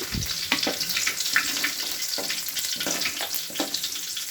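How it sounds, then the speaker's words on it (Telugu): Coarsely crushed garlic frying in hot oil with dried red chillies, a close crackling sizzle with scattered pops and stirring, steady throughout without talk. "కచ్చపచ్చగా దంచుకున్న వెల్లుల్లి వేసుకోవాలి ఫ్రెండ్స్"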